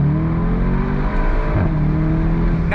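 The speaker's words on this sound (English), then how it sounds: "Nice clap out of the exhaust." A 2022 Bentley Continental GTC accelerating hard with its exhaust roaring, a loud, steady engine drone heard from inside the car as the pitch climbs and then dips slightly, with no talking.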